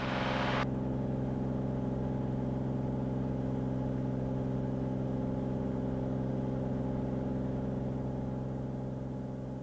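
Inside a light aircraft on a climbing left turn after takeoff from runway 18, the engine drones in a steady, loud, tonal hum throughout, opening with a brief burst of hiss before settling into the constant cabin roar.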